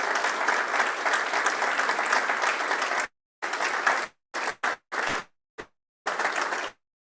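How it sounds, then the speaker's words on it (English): An audience applauds as a woman walks up to a podium at an intrapreneurs event, steady clapping for about three seconds, then a few short scattered bursts before it dies away. "Please keep clapping until she gets to the podium."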